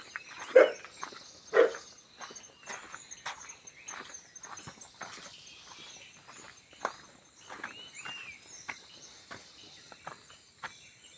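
Two sharp dog barks ring out early at approaching footsteps, followed by quieter crunching footsteps and faint insect chirring outdoors in a village.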